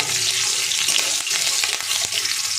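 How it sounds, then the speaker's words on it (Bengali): Whole cumin seeds and chopped green chillies sizzle and crackle steadily in hot oil in a pan, a continuous, close frying hiss with a few stirring scrapes. "দেখুন, ভাজা ভাজা হয়ে গেছে জিরে লঙ্কা"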